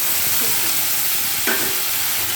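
Vegetables fry in a pan for an ol stalk and chana dal dish, a steady close sizzle with the scrape of a stirring spoon and one brief sharper clack midway.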